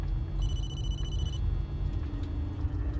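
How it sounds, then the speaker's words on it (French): A telephone rings in the Blair Witch video game, one short, clear electronic ring burst over a low, steady rumble of ambient background. "Là, apparemment, on a un téléphone."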